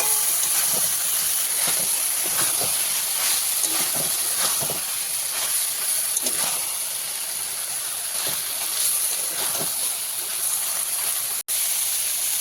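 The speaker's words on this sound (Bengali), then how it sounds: "সয়াবিনটা দিয়ে ভালো করে একটু নেড়ে চেড়ে কষাবো" Soybean chunks stir-fried in spiced oil for a potato and soybean curry, a continuous hissing sizzle with frequent scraping strokes of a spatula close by.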